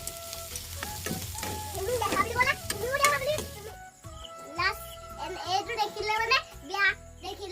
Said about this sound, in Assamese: এয়া বুট ভাজি আছোঁ